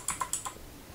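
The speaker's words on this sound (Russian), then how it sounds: "И теперь нажимаю мышкой и клавиатуру пощелкаю." Computer keyboard keys being tapped near microphones, Fifine K658 and K669, four quick light clicks in a row, faint and close, then quiet room noise.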